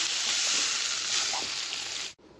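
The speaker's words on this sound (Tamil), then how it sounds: "இப்போ இதில் நம்ம வேக வச்சுருக்க மரவள்ளி கிழங்கு சேர்த்துக்கலாம் சேர்த்துட்டு நம்ம அப்படியே மிக்ஸ் பண்ணி விட்டுக்கலாம்" Boiled tapioca (cassava) is mixed in a frying pan for a village-style stir-fry, a steady close hiss of frying with soft stirring movements before it cuts off abruptly.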